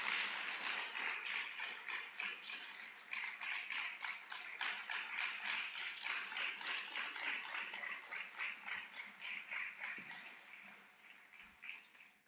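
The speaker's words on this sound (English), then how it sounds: "Let's keep clapping." Conference audience applauding a speaker, a dense, steady patter of many hands clapping throughout, fairly close and even, tapering slightly toward the end.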